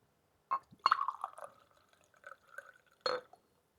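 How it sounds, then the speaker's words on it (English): Whisky pours into a Diamas glass in short, close splashes and trickles, with a clink at the start and a final splash near the end. "this is a hefty pour"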